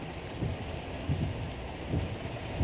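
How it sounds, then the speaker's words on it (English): Steady rain hisses outdoors with a soft, continuous patter and faint low rumbles beneath, no voices present. "And then we got the rain."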